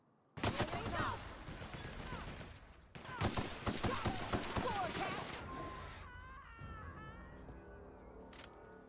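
Bursts of gunfire in The Outer Worlds video game, rapid dense volleys in two loud stretches with a short pause between, then fading into quieter game sounds with a rising tonal whine.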